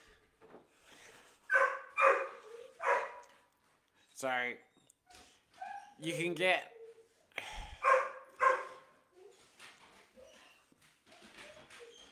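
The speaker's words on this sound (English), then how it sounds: "a dog that just can't say no to barking at birds" A dog barks a few times at birds near an open back door into a yard, the short barks mixed in with a person talking close by.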